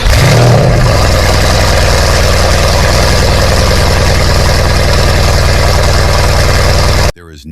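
A supercar engine idles and revs with a dense, steady harmonic drone, loud and close, holding a sustained high-pitched note before cutting off abruptly near the end.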